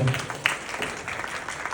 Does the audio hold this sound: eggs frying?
no